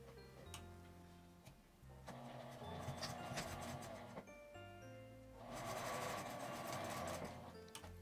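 A domestic sewing machine stitches along a ribbon edge on a small fabric-scrap book keychain, giving soft rapid mechanical ticking and whirring in bursts with brief pauses, fairly quiet and close.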